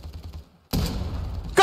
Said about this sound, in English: he knows where Zephon is now because of the gunshots.